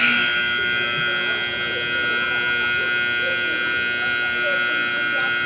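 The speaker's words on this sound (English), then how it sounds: "Looks like we have a malfunction with the buzzer." Malfunctioning buzzer at a high school basketball game, a continuous loud electric buzz with steady harmonic tones that drones on without stopping, with crowd murmur beneath.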